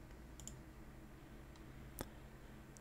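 A computer mouse click while setting up an IP camera feed in OBS: a few faint, sharp clicks in a quiet room, with one clearer click near the end.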